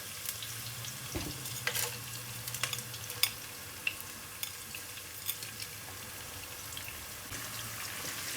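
Whole garam masala spices sizzle and crackle in hot oil in a home kitchen, a steady frying hiss with scattered sharp pops and a few clinks of stirring, close and fairly quiet with no talking.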